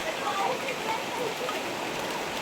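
Rain falling, a close, even patter and hiss on surfaces that continues throughout the short stretch.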